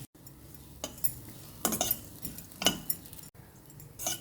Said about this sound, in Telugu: ఇప్పుడు బ్రెడ్ పౌడర్ కూడా వేసేసి వేగించేసుకోవాలి